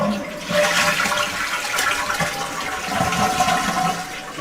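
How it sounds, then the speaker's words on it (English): Toilet flushing in a water-conserving handwash toilet setup, a steady rushing and gurgling of water lasting several seconds, close and alone without talk. "use the toilet, and then flush the toilet"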